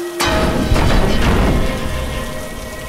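Cartoon sound effect of heavy rain pouring down in a Bengali horror cartoon: a dense, loud hiss of falling rain starts abruptly and continues steadily, with a low thundery rumble underneath.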